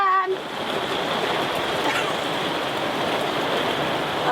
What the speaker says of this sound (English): Can you hear the rain on top of the van?